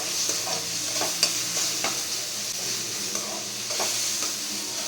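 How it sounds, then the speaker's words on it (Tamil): Masala sautéing in oil in a pan: a soft, steady sizzle with intermittent scrapes and taps of a stirring spoon, close and fairly quiet. "இது நல்லா வதங்கட்டும்"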